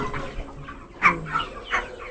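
Broiler chickens cluck in short, scattered bursts close by, with a sharper squawk partway through and no talking.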